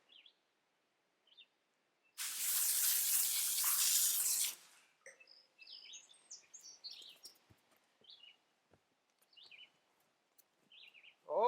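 Water gushing through a septic drain pipe after a clog is snaked out, a loud rushing burst lasting about two seconds, followed by quieter trickles and scattered bird chirps in the background.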